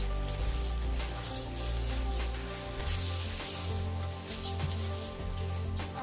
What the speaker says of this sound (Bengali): চালটাকে ভালোভাবে ভেজে নিতে হবে।